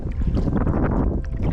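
Steady, loud wind rushes over the sea off a Sardinian beach during a paddleboard outing, a rough continuous roar with some watery texture and no voices.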